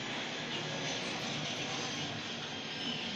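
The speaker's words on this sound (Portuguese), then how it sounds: "que passa avião toda hora aqui pra casa" Aircraft passing over a house, a steady broadband engine roar holding throughout, fairly loud and continuous with no talk.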